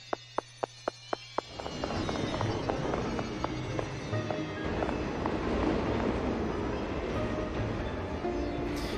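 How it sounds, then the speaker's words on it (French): A subway train in the PS1 game Hellnight pulls away, a few sharp clicks giving way to a steady, loud rumble and rattle of the departing cars. "le métro est en train de partir"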